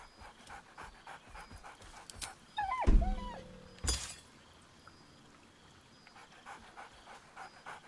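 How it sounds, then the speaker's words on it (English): A dog in Baldur's Gate 3 pants quietly throughout, with a sharp thunk and a short yelping bark near the middle before the panting resumes, close and fairly soft. "Scratch barks merrily in something like agreement."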